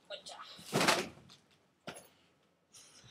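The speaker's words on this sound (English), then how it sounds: "I just knocked down that whole big pile of books I usually have" A big pile of books gets knocked over and topples in a loud cluster of thumps, followed by a couple of separate knocks as stragglers fall. Indoors, fairly close.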